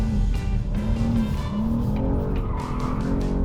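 A BMW M2 with its traction control disabled slides through a turn, its tires squealing and skidding over a loud, throaty engine roar that holds steady throughout.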